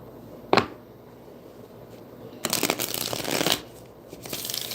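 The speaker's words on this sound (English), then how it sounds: "Let me do some shuffle." Tarot cards being shuffled close by, a sharp single riffle followed after a pause by a longer rustling run of shuffling, quiet and alone.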